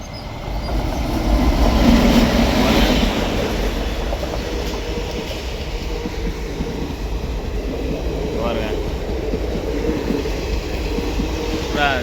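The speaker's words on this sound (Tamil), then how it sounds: "கரண்ட் ரயில் பாருங்கள் சல்லுன்னு வந்துருங்க அந்த லைலு" An electric train rumbles past up close, a steady roar of wheels on rails with a faint metallic squeal, loud throughout before easing slightly.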